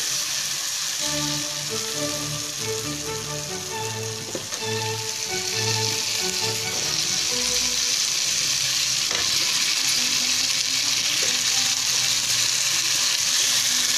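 Potatoes sizzle and crackle loudly in hot oil, a constant close hiss, with occasional stirring scrapes and a few brief voice-like tones underneath.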